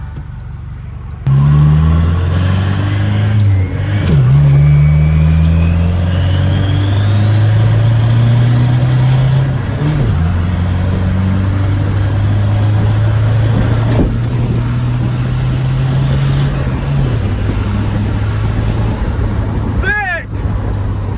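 A loud multi-turbo diesel truck engine in Isaan, Thailand revs up repeatedly in long pulls, with a rising turbo whistle and a hiss near the end, voices talking underneath.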